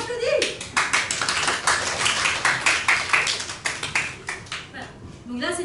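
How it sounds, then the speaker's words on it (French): Scattered hand clapping from a small group, a steady patter of claps close by with a voice speaking over the start and end. "On m'applaudit."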